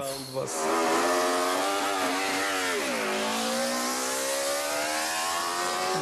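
A rare four-cylinder MV Agusta racing motorcycle engine revs loudly and steadily, its pitch rising, dipping, then climbing again in a smooth sustained wail close by, with no talk over it.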